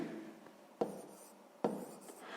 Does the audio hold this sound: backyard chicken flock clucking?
no